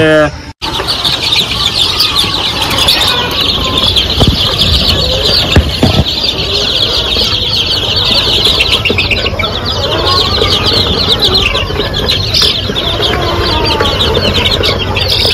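Chickens cluck densely and flap their wings in a crowded poultry farm shed, a loud continuous chorus of bird calls with a voice talking over it.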